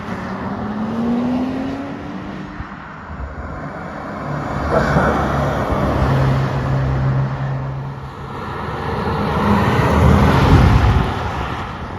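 An Audi RS 6 Performance V8 engine and exhaust rumbles steadily at moderate distance, rising and falling in revs with a brief swelling pull midway and a louder surge near the end, over faint wind.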